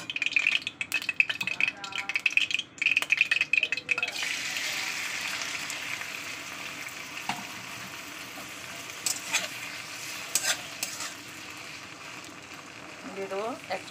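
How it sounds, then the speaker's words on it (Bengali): Prawns frying in hot mustard oil in a pan give a steady broadband sizzle that swells loudly after the first few seconds, with brief clinks and stirring scrapes on top. "এবার আমি চিংড়িটাকে দিয়ে দেবো, জাস্ট হালকা করে একটু ভাজা করে দেবো।"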